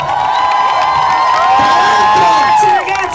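A concert audience cheers and shouts together at a loud, sustained level, with whoops rising over the din and a voice calling out above the crowd.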